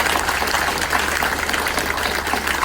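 Applause from an audience at an outdoor park re-dedication ceremony, a dense steady wash of clapping holding at an even level throughout with no voices on top.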